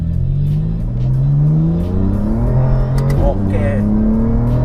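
A tuned BMW M4 at stage 2+ accelerates hard, its engine note climbing steadily through the revs with a brief shift break near the end, loud and close inside the car, with a voice heard faintly under the engine.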